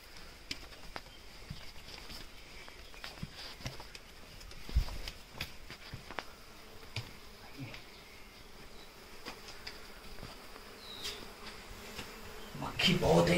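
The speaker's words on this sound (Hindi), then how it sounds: "मक्खी बहुत है यहाँ पे, आराम से आइएगा।" Flies and other insects buzz faintly and steadily along a steep hillside trail in Dalma Wildlife Sanctuary, Jharkhand, with scattered footsteps and small knocks and a louder rustle near the end.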